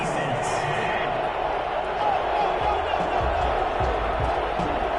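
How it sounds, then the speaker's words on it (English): A football stadium crowd murmurs and grumbles in disapproval after a penalty flag at a GFL Desperados vs. Ravens game, a broad sustained roar of distant voices at steady moderate loudness. "Well, the crowd doesn't like that."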